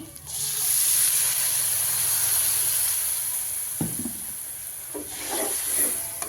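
A little water is poured into a cooking pot while preparing rice dishes for a Ramadan eve meal, giving a steady loud hiss of steam and sizzle, with brief clatters and stirring knocks near the end.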